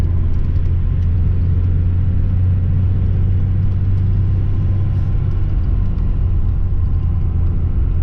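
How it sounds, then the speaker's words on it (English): A Cummins diesel in a square body truck lugs up a hill in 4th gear at about 1500 RPM, a loud, steady low rumble with a loping idle-like pulse throughout. "I'm turning 1500 RPMs, and she's loping. 4th gear up this hill."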